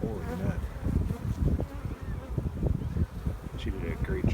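Honey bees swarm around an open hive during a commercial beekeeper's frame inspection, a dense close buzzing of many insects that rises and dips continuously, with occasional quiet speech mixed in.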